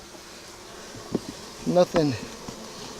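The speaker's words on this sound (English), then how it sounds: "a couple bees here and there" Bees buzz during a beehive inspection, a steady faint drone under a couple of brief voiced sounds from a person nearby.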